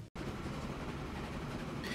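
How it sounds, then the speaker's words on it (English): Train pulling into a station in Transport Fever 2, a steady loud rumble of rolling wheels and rail noise that holds throughout after a brief silent gap at the start, with no talking. "Okay, the train's about to arrive."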